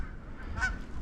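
A single faint goose honk from birds whiffling down toward decoys during a late-season goose hunt in wind, brief and distant over a low rumbling wind background.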